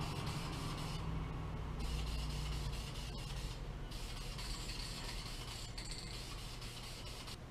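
Steady aerosol hiss of a light coat of yellow spray paint going onto a Whopper Plopper fishing lure, continuous and close for the whole stretch with small shifts in intensity, no talking.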